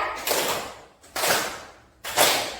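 Schoolchildren in a primary classroom clap a rhythm in unison, three evenly spaced bursts of massed hand claps roughly a second apart, each loud and smeared by many slightly unsynchronized hands with a short decay.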